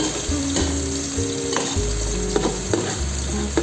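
Onions and garlic frying in a little oil for chicken tinola, a loud close crackling sizzle with spoon stirring and scraping against the pan, steady throughout without talk.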